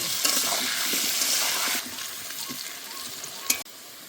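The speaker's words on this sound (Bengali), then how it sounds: "এবার ভালো করে ভেজে নেব।" Potatoes frying with salt and turmeric, a loud continuous sizzle with stirring scrapes that drops in level partway through, plus a sharp clatter near the end.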